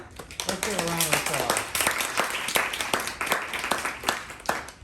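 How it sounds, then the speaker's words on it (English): Audience applause after an alumni lunchtime lecture, a dense patter of clapping filling the room for several seconds, with voices talking over it. "Let's give a round of"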